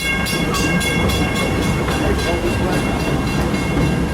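Walt Disney World Railroad train rolling into Frontierland Station at Magic Kingdom, a steady loud rumble of wheels and carriage noise with faint rhythmic clatter throughout, no voices.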